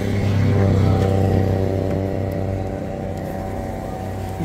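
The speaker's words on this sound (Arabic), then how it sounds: "الموتور بالزربه." A car engine revs hard at a used car dealer in Kenitra, a loud steady mechanical roar that peaks early and then settles slightly lower, heard alone without talk.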